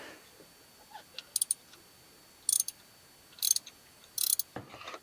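A wrench on an angle extension loosens a fuel filter bracket bolt on a Mercedes Sprinter van, giving four short, sharp clusters of ratcheting clicks, close and distinct against a quiet background.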